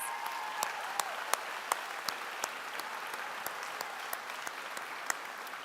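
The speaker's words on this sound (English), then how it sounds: "join me in giving Miss Jackie Hill a tremendous round of applause" Audience applause for a teacher at a graduation ceremony, a steady wash of many hands clapping with sharp individual claps popping out, moderately distant and continuous throughout.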